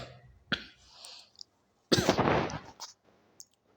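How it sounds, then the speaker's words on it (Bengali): A person gives a couple of sharp coughs close by, with a short harsh burst early and a louder, longer rasping cough later, separated by quiet gaps. "আমার তো কাশি একদমই যাচ্ছে না।"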